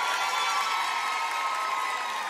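A studio audience applauds and cheers for São Miguel on a children's variety show, a steady wash of clapping and crowd noise filling the whole stretch at even loudness with no talk over it.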